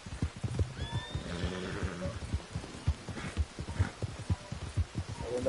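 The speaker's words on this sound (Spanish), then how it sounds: "Ahí viene el caballo mío." A horse in the video game Red Dead Redemption trots in with rhythmic hoof clip-clops and lets out a drawn-out whinny, heard clearly and close against a soft background.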